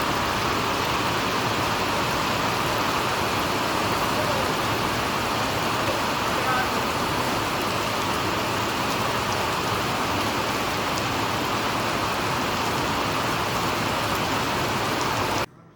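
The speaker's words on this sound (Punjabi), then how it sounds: "ਤਾਂ ਜ਼ੋਰ ਨਾਲ ਮੀਂਹ ਆ ਗਿਆ ਦੇਖੋ" Heavy rain pouring down in a steady, loud, unbroken roar of drops on surfaces, continuing evenly until it cuts off abruptly at the end.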